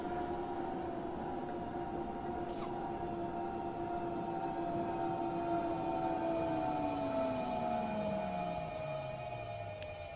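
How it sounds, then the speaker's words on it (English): A steady electronic train hum from a train simulator on the Wurzen–Leipzig Hbf route, with a sustained tone that slowly glides lower as the train eases to a stop at the station, with a brief chime partway through. "Welcome to the station, train."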